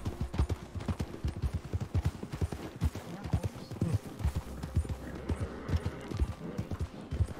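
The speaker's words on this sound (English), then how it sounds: "This horse is giving me a lot of problems." Horse hooves clip-clop steadily in a Wild West video game, a brisk, even rhythm of close hoof strikes running throughout with faint background noise.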